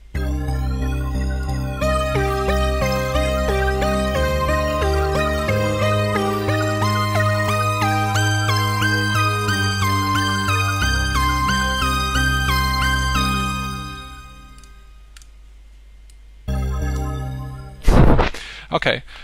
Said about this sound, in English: I hope you enjoy your arpeggiated sounds on SoundPrism Pro